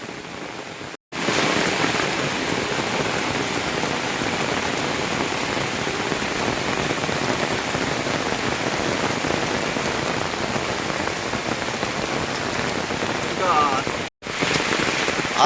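A heavy monsoon downpour roars steadily, a dense, loud wash of rain hitting surfaces close by, unbroken apart from two brief cuts.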